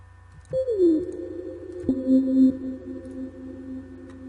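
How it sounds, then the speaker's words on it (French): Hoover synth sound built in Serum: two sustained tonal stabs with a sliding, gliding pitch, buzzy and prominent against near silence. "Qui est juste un petit hoover créé avec Serum."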